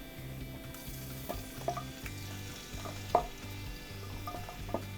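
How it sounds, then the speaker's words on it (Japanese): Marinated frozen seafood mix sautés over medium heat in garlic-infused oil for a pescatora pasta, giving a soft, steady sizzle with scattered scrapes and clinks of stirring; a low, rhythmic hum runs underneath. "でこの状態で火を中火ぐらいにして魚介を炒めていきます"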